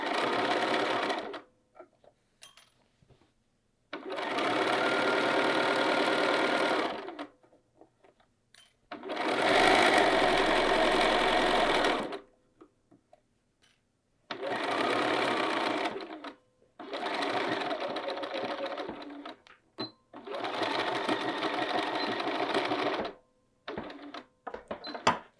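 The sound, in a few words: sewing machine stitching a field bag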